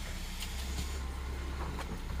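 A car engine runs steadily and close by while the vehicle is driven out, a constant low rumble with a few faint clicks and rattles on top and no talk.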